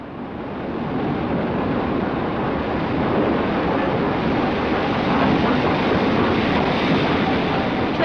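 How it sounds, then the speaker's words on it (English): A train pulls into York railway station, a steady broad rumble of wheels and carriage noise that holds loud and constant throughout with no voices. "Train now arriving at platform 14 is the 9:50 for Grantham and King's Cross."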